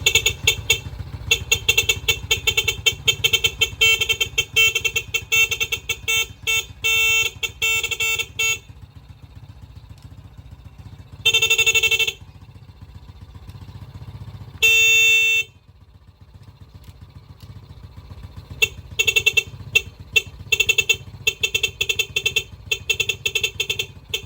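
A newly installed horn on a SYM Bonus motorcycle being tested, honking in long blaring bursts and rapid repeated toots with short pauses, loud and close over an idling engine, with no talking.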